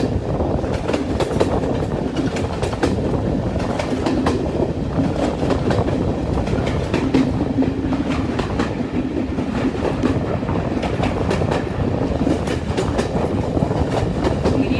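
A steam train on the Strathspey Railway in Scotland rolls steadily along the rails with a continuous rumble and rhythmic clickety-clack of wheels, loud and close throughout.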